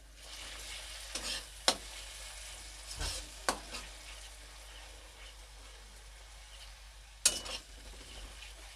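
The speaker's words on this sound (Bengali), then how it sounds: "এখন এটা ভালো করে নেড়েচেড়ে কষতে হবে। 4 থেকে 5 মিনিট কষতে হবে।" Spice masala being stirred and fried in a pan for an egg dish, with a quiet, steady sizzle and a few sharp spoon knocks against the pan spread through the clip.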